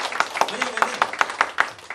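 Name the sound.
audience clapping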